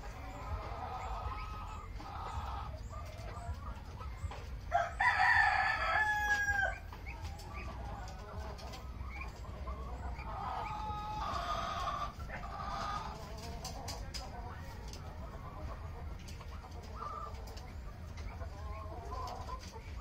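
Laying hens cluck steadily in the background while a rooster crows loudly once early on, with more scattered clucks and fowl calls following.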